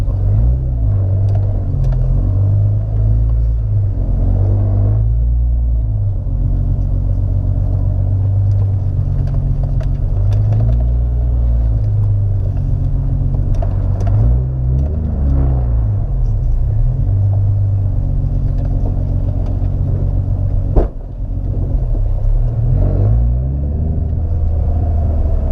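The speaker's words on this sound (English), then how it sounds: "let's let the car, you know, idle for a little bit, and then we'll get on the road." A tuned Infiniti G35 coupe idles with a loud, deep, steady exhaust rumble, continuous and close, with no talking.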